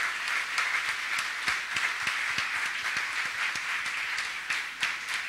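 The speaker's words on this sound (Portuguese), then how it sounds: "Uma salva de palmas para ela." Forum audience breaks into steady applause, dense overlapping hand claps sustained evenly throughout with no one speaking.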